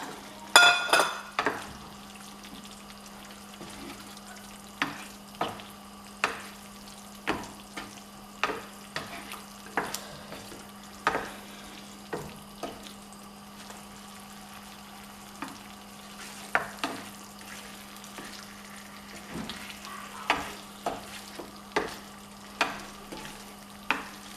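Potatoes for dum aloo are stirred in a pan, with repeated sharp scraping clinks of a spoon against metal at irregular intervals over a quiet, steady background hum.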